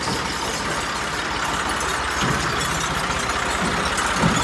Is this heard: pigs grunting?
no